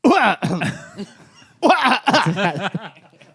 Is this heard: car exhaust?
no